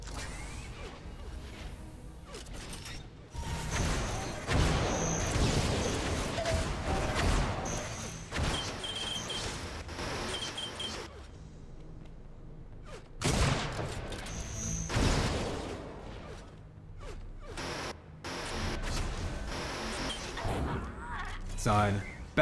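Rocket launcher fire and explosive impacts in a competitive Unreal Tournament match, bursts of blasts, whooshes and crashes clustered in waves with brief lulls, under a continuous commentator voice.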